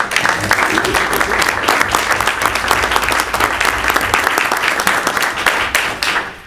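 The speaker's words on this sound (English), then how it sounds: "I'd like to give you a round of applause." A borough council meeting audience in Mountainside, New Jersey gives loud, sustained applause, dense clapping from many hands that holds steady for several seconds before tapering at the end.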